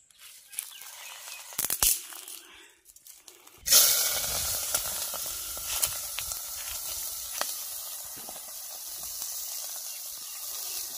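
Spices tempering in hot boiling oil burst into a loud, bright sizzle after a quiet start with a few clicks and pops, then settle into a steady close hiss with scattered crackles.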